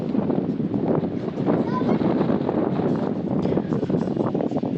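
Gusty wind buffeting the microphone in a constant low rumble, with a voice speaking over it.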